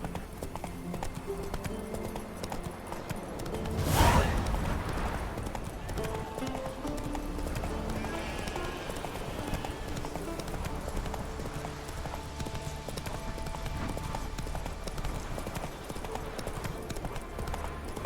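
Geralt's horse Roach from The Witcher 3: Wild Hunt runs with a steady, continuous clatter of hooves. A brief louder thud comes early, and the footfalls keep a constant pace throughout.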